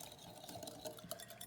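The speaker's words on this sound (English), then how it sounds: "Now I'm gonna take my little whisk and put it together." A small whisk stirs buttermilk into a sauce, a quick, faint run of rapid scraping ticks against the bowl.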